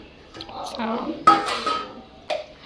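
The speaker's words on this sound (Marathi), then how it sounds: "रवा थोडासा भाजायचा पहिले 1-2 मिनिटं गरम कढईमध्ये चांगला" Semolina roasting in a hot kadhai for sweet sheera, stirred with a metal spoon: scraping and clattering against the pan in uneven bursts, close and fairly loud, with a sharp knock partway through.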